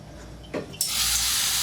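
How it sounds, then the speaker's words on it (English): Water drops hit a heating aluminium pan during a water test, giving a short hiss followed by a steady, louder sizzling spray that continues to the end. "See it? That's sizzling."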